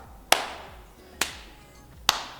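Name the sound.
hands clapping in an exercise class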